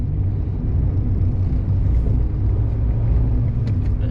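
A 2012 Fiat 500 driving in city mode while warming up, heard as a continuous low engine and road rumble with a steady, even drone from start to finish and no talk.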